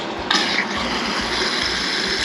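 Cold Canadian tap water from the Rockies, near Banff, gushing steadily from a faucet as a loud, continuous broadband rush close by, with no talk over it.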